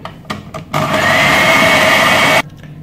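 An electric mixer whirs steadily for under two seconds through marble cake batter, preceded by a few short knocks and followed by quieter clatter as it stops.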